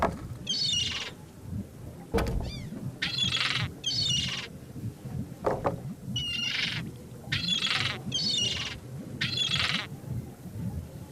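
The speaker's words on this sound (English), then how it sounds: "I think that bird'll peck my hand off." A cartoon bird in The Secret of Monkey Island squawks and chirps in repeated short bursts over a steady ambient game background, with a couple of sharp clicks in between.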